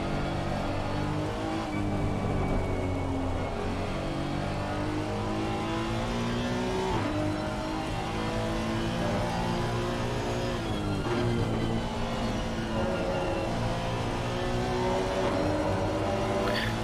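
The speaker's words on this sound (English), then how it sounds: "Fantastic sound of this Honda engine, Honda NSX GT3" A 2019 Honda NSX GT3 race car in the racing game Assetto Corsa Competizione, its engine droning and revving steadily through gear changes throughout, with rising and falling pitch and no talk over it.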